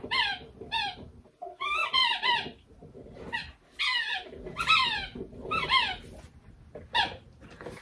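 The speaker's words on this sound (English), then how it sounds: "This boy over here is going to have a squeaky ball a lot." A dog chewing a squeaky ball toy, producing bursts of high, shrill squeaks in irregular clusters, each squeeze a rapid double or triple squeal, loud and close with short pauses between.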